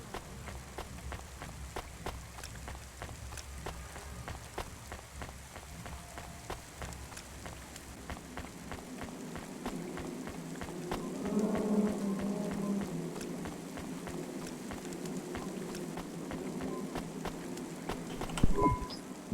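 Steady rain falls outside a restaurant in the sci-fi video game Cloudpunk, a soft continuous patter that thickens partway through, with faint ambient tones and a brief louder knock near the end.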